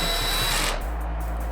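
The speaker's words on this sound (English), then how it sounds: "Attach the hinges to the corner joints with the same screws." A power drill drives screws to fix hinges onto the corner joints of an EDGE system door, a steady close motor whine that winds down partway through.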